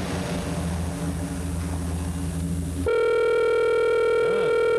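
A telephone rings as a steady electronic tone with a strong, unbroken hum, starting abruptly after about three seconds of rumbling background noise, with no talk over it.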